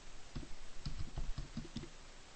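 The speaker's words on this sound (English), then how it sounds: "I press enter on the keyboard and it sets the title" Quick, close clicks of a computer keyboard being typed on, about half a dozen keystrokes in an uneven rhythm, fairly quiet over a faint steady background hiss.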